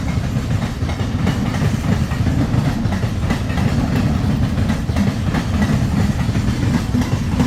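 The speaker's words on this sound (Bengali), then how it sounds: "দেখেছো কত বড় ট্রেন যাচ্ছে?" A large train rolls past nearby, its steady loud rumble and rhythmic clickety-clack of wagons on the rails continuing without a break, with no talking.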